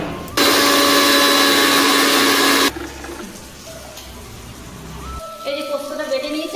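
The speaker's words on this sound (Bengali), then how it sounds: "দেখো পোস্তটা আমি মিক্সারে গ্রাইন্ডার করে দিচ্ছি, সামান্য পোস্ত দিয়ে" A kitchen mixer grinder whirs loudly and steadily while grinding poppy seeds for about two seconds, then cuts off abruptly, leaving quieter room sounds and someone speaking.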